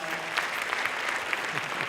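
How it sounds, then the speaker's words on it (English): Steady applause from a festival audience greeting a speaker as he is introduced, dense and even throughout with a few louder claps standing out. "Give him a big round of applause, guys."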